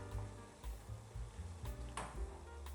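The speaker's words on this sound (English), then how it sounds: "First, just the bok choy, letting that cook for about 2 to 3 until bright green." Bok choy cooking in a pan gives off a steady, close sizzle, with a few brief clatters of stirring and no talking.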